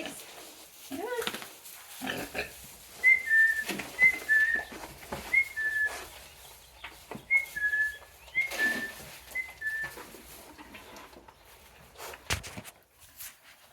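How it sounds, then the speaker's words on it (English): A person whistles repeated short two-note calls to summon farm pigs for feeding, with pig grunts, footsteps and some talking mixed in around the whistles. "So I whistle every time I give them food so that they can connect the sound to getting fed."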